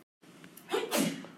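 A single person sneezes indoors: a brief catch of breath and then an abrupt, breathy burst, heard up close with no other sound.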